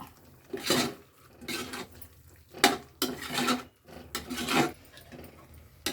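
A spoon scraping and stirring masala into mutton biryani in a pot, repeated rough scraping strokes in an irregular rhythm, close and fairly loud, with no talk.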